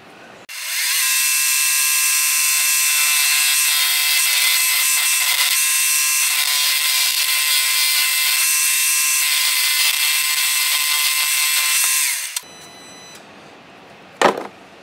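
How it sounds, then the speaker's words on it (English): Half-inch drill boring into metal on a Hemingway Kit spherical ball turner build, a loud, steady whine running about twelve seconds without a break, then cutting off to quieter handling noise and a sharp knock near the end. "Now we're going to go in with a half-inch drill from the tip of the drill, equal to the surface here, right?"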